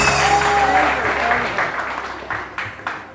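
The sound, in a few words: audience applauding for Farida Aapa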